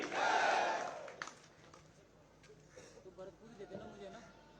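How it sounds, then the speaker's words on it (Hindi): A large crowd at an outdoor political thanksgiving rally in Deeg, India, roars out a loud chant, and the shout then fades into scattered crowd noise under someone talking over a public address system. "पूरी ताकत से ताली बजा करके मोदी जी का धन्यवाद कीजिए और बोलिए भारत माता की"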